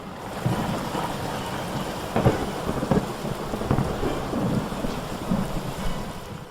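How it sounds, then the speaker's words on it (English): Rain patters steadily on the roof of an old barn, a continuous dense wash of drops with low rumbling underneath and no voices. "only heard the rain pattering on the roof of the old barn"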